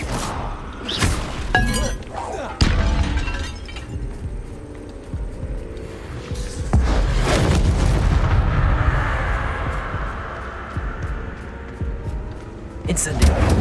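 Incendio fire spell cast in Hogwarts Legacy: several sharp blasts followed by a roaring, crackling burst of flame, mixed with shattering clinks and other combat noise, with a voice heard at times.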